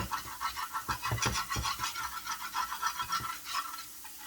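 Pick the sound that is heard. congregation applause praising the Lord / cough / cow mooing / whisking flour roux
whisking flour roux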